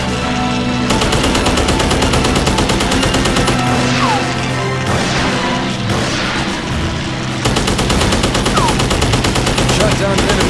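Rapid machine-gun fire from World War I fighter planes in the Red Baron-era flight game Wings of Honour, dense continuous bursts over a steady engine drone with occasional whistling streaks, loud and unbroken throughout.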